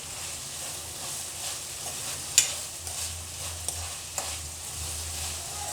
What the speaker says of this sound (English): add the ginger garlic paste. And roast along with the onion.